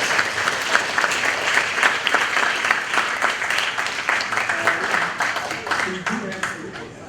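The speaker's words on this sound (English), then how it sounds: "A round of applause for the amazing presentations and inspiring of our guests." A large audience at a Save Soil advocacy event applauds steadily, a dense wash of clapping that holds for several seconds before tapering slightly.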